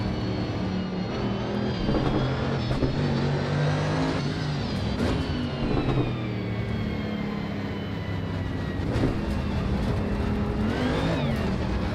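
All-wheel drive race car in the driving game Assetto Corsa Evo, its engine droning steadily and rising in pitch under throttle, loud and continuous with no talk.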